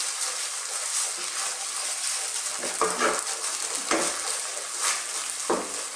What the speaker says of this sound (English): Just mix all that garlic, that sage.